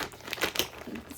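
Crinkling plastic bag, a few close crackly bursts of handling over about a second, with no talking.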